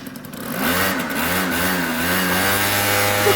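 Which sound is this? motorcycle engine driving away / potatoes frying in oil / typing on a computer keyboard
motorcycle engine driving away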